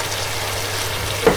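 Onions and tomatoes fry together in a pan for a turnip (gaangloo) curry, giving a steady, close sizzle with a brief louder burst near the end.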